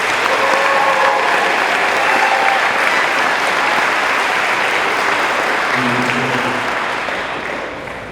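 Loud, dense applause from a high school graduation audience honoring honor society students, a sustained roar of many hands clapping together that holds steady before tapering slightly at the end.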